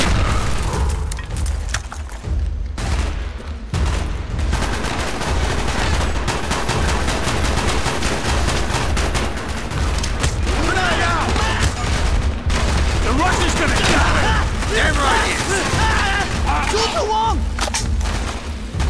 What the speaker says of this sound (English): Shoot the wall!